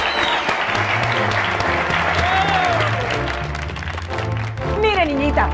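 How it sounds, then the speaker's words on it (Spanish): Studio audience applause during a comedy show, dense and sustained, heard under background music with a few melodic swoops and no speech. "Un aplauso."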